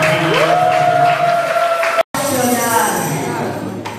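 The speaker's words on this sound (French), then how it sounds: "nous acclamons très fort le Seigneur" A church congregation cheers and applauds, a loud crowd roar with a sustained high tone, cut by a brief dropout, then resuming with clapping and voices.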